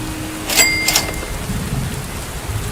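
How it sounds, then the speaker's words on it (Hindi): Heavy rain pours steadily in a noisy wash, with a brief crackling rumble of thunder early on and no voices. "अरे ये अचानक से बारिश कहाँ से आने लगी?"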